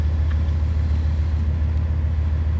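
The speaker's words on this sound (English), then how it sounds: "So I am happy to say the idle has gone down a little." A 1991 GMC C-series pickup with throttle-body fuel injection idles steadily after warming up, its deep low rumble continuous and close throughout, with no voices over it.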